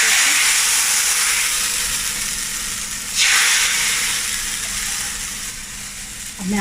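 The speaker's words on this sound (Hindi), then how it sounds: "चूल्हा ऑफ करेंगे और भगार डाल देंगे हम" Hot tempering oil poured into a pot of kadhi pakora, a loud sudden sizzling hiss that bursts up mid-clip over an already steady frying hiss and then slowly fades.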